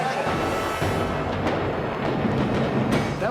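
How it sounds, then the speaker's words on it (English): A pyrotechnic explosion sets off a sustained, dense roar on a stunt-filled film set, booming and crackling continuously at full loudness with scattered sharp bursts over about three seconds. "That was a nice explosion."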